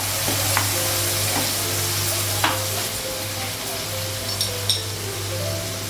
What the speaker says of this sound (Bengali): পেঁয়াজটা ভাজা হয়ে গেছে। মশলাটা লাগাবো।